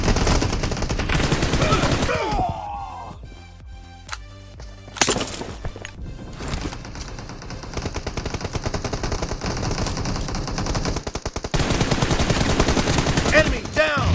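Gunfire in a shooter video game, heavy machine-gun bursts and rapid shots, loud and close, alternating with quieter stretches where game voice lines are heard.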